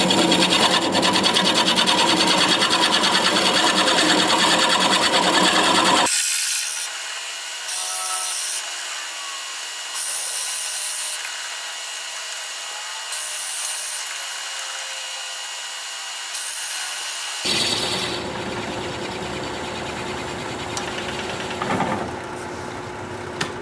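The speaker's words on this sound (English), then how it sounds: "it's time for drilling. Got to make a hole in our vase." A drill bores a 9/16-inch hole into a red cedar vase spinning on a wood lathe, giving a steady, loud grinding rasp that gives way to a quieter, thinner whine midway before the full grinding returns.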